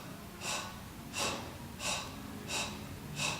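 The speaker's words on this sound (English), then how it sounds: "So it's a short, fast breath for a short, fast movement" Five short, fast exhaled breath pulses during an intermediate Pilates pulsing leg exercise, evenly spaced about every 0.7 seconds, close and breathy with no talking.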